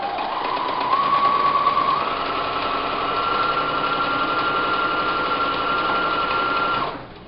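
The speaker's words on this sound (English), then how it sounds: "I'm just going to stitch down." A sewing machine runs steadily for about seven seconds, stitching down a seam on pink fabric for a multi-purpose pouch, with a constant whirring hum that stops abruptly at the end.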